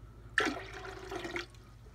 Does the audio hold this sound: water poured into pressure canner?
yes